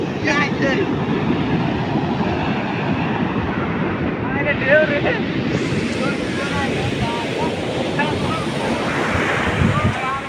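Sea waves wash onto a sandy shore in a loud, continuous roar of surf, with wind buffeting the microphone throughout and faint voices in the background.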